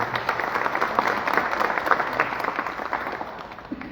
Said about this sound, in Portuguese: vamos dar uma salva de palmas para declarar a nossa alegria e a nossa felicidade com cada um